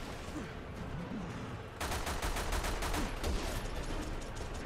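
Sniper rifle fire in a video game, heard as a burst of rapid repeated shots that starts partway through over a constant background of game noise.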